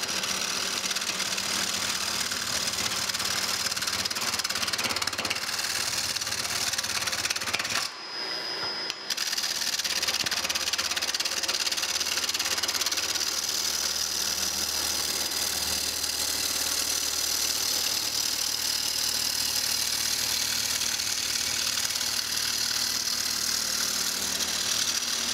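A lathe turns a wooden foundry pattern with a steady, loud mechanical drone and whine that drops out briefly near the middle before resuming unchanged; no one speaks.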